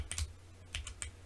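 Clicky keypresses on an ROG Azoth mechanical keyboard while playing Black Mesa, a handful of separate sharp taps spaced unevenly over about a second, close and soft against a faint low hum.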